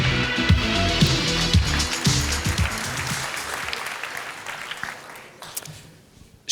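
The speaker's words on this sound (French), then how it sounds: "On peut l'applaudir, s'il vous plaît." An audience at a master's degree graduation ceremony claps warmly, the applause strong at first and then gradually fading away, with some low thumps and shuffling underneath.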